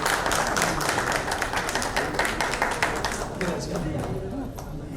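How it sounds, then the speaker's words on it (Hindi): Audience applause welcoming a guest at the launch of a music show, a steady wash of clapping that stays fairly loud through the whole stretch with a mild fade near the end. "तालियों के साथ पद्मा जी का स्वागत कीजिए।"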